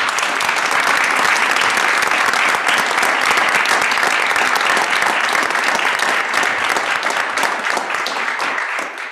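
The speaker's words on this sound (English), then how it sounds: "Another round of applause." A board of regents meeting audience gives sustained, dense applause, loud and even throughout with no talk over it, tapering slightly at the very end.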